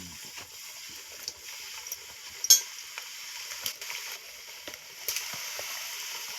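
Battered gobi 65 cauliflower frying in hot oil, a soft steady sizzle with scattered crackles and pops and a few sharper spits, heard close and on its own with no talk.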